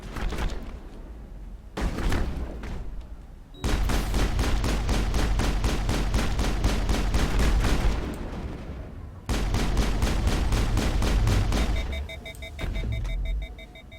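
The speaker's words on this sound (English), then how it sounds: "Someone else shoot him, not just me." Rapid automatic gunfire in the video game Mass Effect runs in long, loud, close bursts separated by brief lulls. Near the end, beeping alarm tones sound over the shooting.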